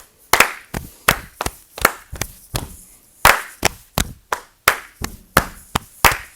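Sharp hand claps ring out one after another at a fairly steady rhythm, loud and close with brief pauses between them, no talking.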